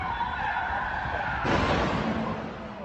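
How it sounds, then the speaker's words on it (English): Car crash with tire skidding in news footage of a carjacking, a sustained screeching skid that swells into a louder broadband burst of impact noise midway, fairly loud and without talk. "The horrifying sound of the crash."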